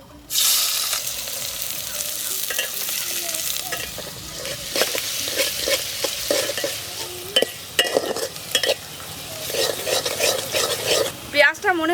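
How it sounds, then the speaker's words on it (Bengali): Chopped onions hit hot oil in a cooking pot, bursting into a loud sizzle, then repeated scraping and clattering stirs over a steady crackle that fades and rises. "বেশ কিছুটা পরিমাণ পেঁয়াজ নিয়েছি এই পেঁয়াজটা এখন দিয়ে দেবো"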